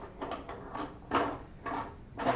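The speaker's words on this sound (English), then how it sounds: "And then I can start tightening the collar here." Tightening the collar on a mechanical shaft mount reducer: a handful of close, short metallic ratcheting clicks and scrapes come in quick bursts, fairly quiet, with no talking.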